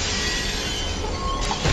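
Glass shattering in the video game F.E.A.R., a loud, broad crash with scattering debris that fills the short moment, a burst of noise with no speech.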